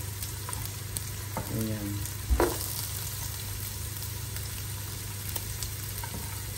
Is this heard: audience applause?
no